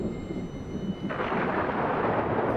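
Rumbling thunder rolls through a stormy evening in the adventure game Indiana Jones and the Great Circle, a deep continuous roar that swells partway through with a hiss of rain behind it.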